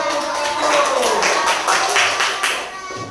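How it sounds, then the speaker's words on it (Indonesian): Classroom applause for a student group, a burst of dense hand clapping from many students close by that stays busy and uneven, with a few voices mixed in. "Beri tepuk tangan untuk"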